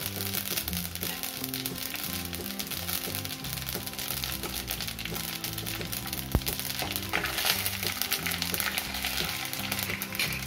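Mustard seeds, cumin and sesame seeds sizzle in hot tempering oil for methi muthiya dhokla, a close, continuous crackling hiss with one sharp pop partway through.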